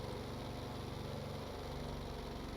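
An aircraft engine drones steadily in a Stormworks flight game as the plane makes its landing approach, a loud, even hum with a low throbbing pulse and no break throughout.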